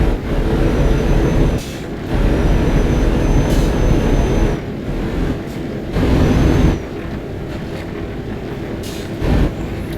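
An Iveco truck engine drones loud and close in Euro Truck Simulator 2, rumbling in long sustained stretches broken by brief drops and gear-change pauses, with a faint whine above the low roar.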